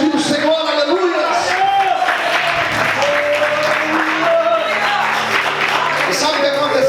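A church congregation applauds steadily together, the clapping dense and sustained, with shouts and voices mixed through it and a sung or held tone underneath.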